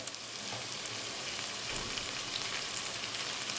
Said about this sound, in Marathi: आता यात आपण ही जी वांगी घेतलेली होती ती टाकून घेणार आहोत.